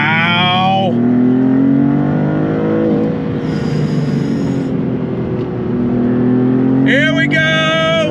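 A 2024 Maserati MC20 supercar in Corsa mode accelerating hard from a launch-control start, loud engine tone climbing through rising pitches with gear shifts, heard from inside the cabin while people talk.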